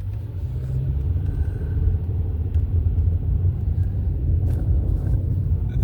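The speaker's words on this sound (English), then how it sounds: "This car really wanted to catch up" A car passes on a road with steady low engine rumble and tyre noise, fairly loud and continuous throughout, with no talk over it.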